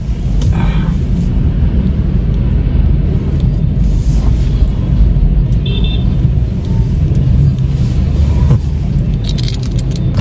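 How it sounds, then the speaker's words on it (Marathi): Heavy road traffic at the start of a vehicle ride makes a loud, constant engine rumble and road roar, close up, with faint passing sounds over it. "भयंकर ट्रॅफिक राहणार भयंकर"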